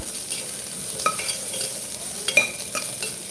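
Tomato mixture for tomato rice being sautéed and stirred in a pan, with a steady low sizzle and a few clinks of the spoon against the pan, no voices.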